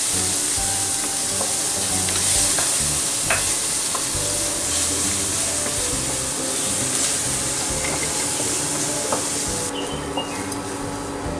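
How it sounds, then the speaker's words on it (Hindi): Onions frying with coriander, turmeric and a little chili in a pan for namkeen sabji, a continuous close sizzle with frequent spatula scrapes and clicks, slightly quieter near the end. "अब इसको इसमें डाल रहे हैं हम प्याज भूनने के लिए"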